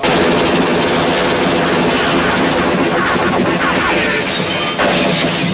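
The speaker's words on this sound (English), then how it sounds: "We see a lot of guns, but I don't think we see this much machine gun action." Heavy machine gun fire in a TV drama bank-robbery scene, dense and continuous at high loudness, with sustained bursts and crashes filling the whole stretch without a break and no speech over it.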